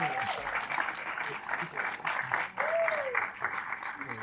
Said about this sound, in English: one final round of applause up here